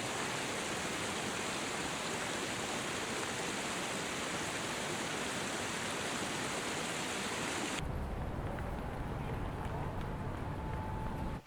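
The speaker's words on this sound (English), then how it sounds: "Here you can hear that the audio from the waterfall takes us into the city and then dissolves into the city rumble" A waterfall rushes as a steady, dense wash of falling water, loud and continuous, then cuts abruptly to a duller low city rumble for the last few seconds.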